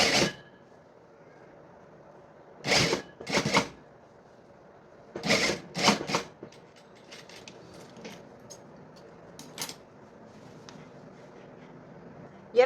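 A sewing machine stitches the hem of an elastic-waist skirt in several short, separate bursts, with quiet pauses and small handling clicks between them.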